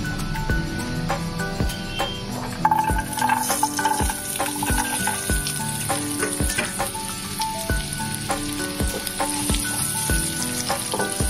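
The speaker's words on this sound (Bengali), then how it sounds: "গাজরটা দিয়ে নিলাম, একটুখানি ভেজে নেব।" Diced carrots fry in white oil with a little salt, a steady close sizzle with scattered crackles and occasional clinks of a spatula stirring in the pan, no talking.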